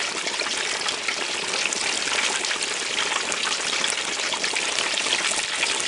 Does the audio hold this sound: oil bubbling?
yes